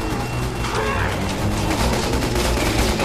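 Dense gunfire from zombies in the video game Resident Evil 6, a loud continuous fusillade of rapid shots and crashes, with a voice faintly underneath.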